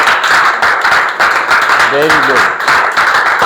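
A Grade 9 class claps for a student presentation group in a dense, loud round of applause with a rhythmic pulse, while a voice speaks briefly over it.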